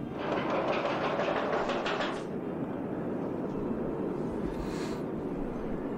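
Ride train in the OpenRCT2 game rolling along its track, a steady rumbling clatter that drops off after about two seconds into a quieter hum, with no talking.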